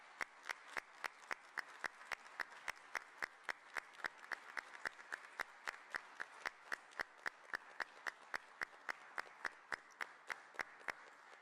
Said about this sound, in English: get the biggest, most thunderous round of applause of all